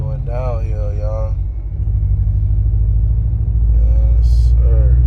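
A Ram 1500 pickup with a 5.7L Hemi V8 rolls downhill on a North Georgia mountain road, its steady low engine rumble and road noise running throughout, with someone talking over it at the start.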